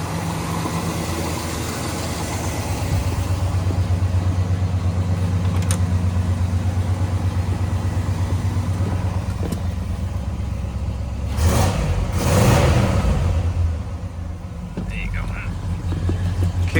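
A 1970 Pontiac GTO Judge engine runs after a cold start, a steady low rumble at a slightly heavy idle with the choke kicking off, close by, with a brief louder surge near the end and people talking over it.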